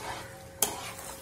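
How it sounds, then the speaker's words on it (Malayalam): Thick first-extract coconut milk poured into a sizzling pan of country-style duck roast, a soft steady sizzle broken by a sudden bright splash and hiss as the liquid hits the hot pan, then continued bubbling. "ഞാനിത്തിരി തലപ്പാൽ എടുത്ത് വെച്ചിട്ടുണ്ടായിരുന്നു, അത് ഒഴിച്ചു കൊടുക്കാം"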